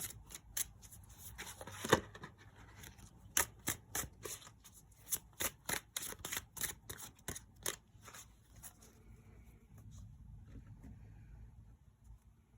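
Tarot cards are shuffled and drawn in a quiet room, a run of crisp riffling snaps and slaps in quick bursts that thin out into soft handling noises near the end, with no talking.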